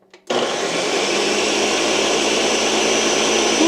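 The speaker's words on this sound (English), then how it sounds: "Okay, Ninja blender." A Ninja blender switches on after a brief quiet moment and runs at a loud, constant roar with a steady high whine, without pause or speed change.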